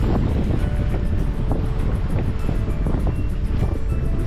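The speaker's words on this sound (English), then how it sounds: "thought we'd have no wind this morning, but yeah, it's come up a bit" Strong wind buffets the microphone aboard a sailing boat at sea off the west coast of Scotland, a constant loud roar and flutter with water rushing beneath.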